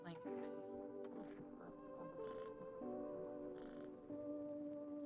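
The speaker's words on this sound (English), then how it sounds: "Cat." A cat in the horror game No, I'm Not A Human meows a few times, short separate calls over a steady tonal game background.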